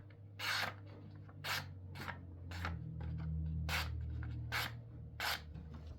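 A knife blade rasps through paper in a steady series of short, crisp slicing strokes, about seven of them, close and quiet over a low background hum, with a slight tearing quality.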